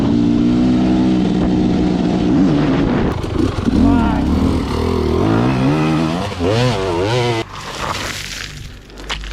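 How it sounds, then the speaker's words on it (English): A brand-new dirt bike engine revs hard on a forest trail, loud and close, its pitch sweeping up and down through repeated throttle blips before dropping off near the end. "A brand new dirt bike, a confident rider, and a trail that felt almost alive."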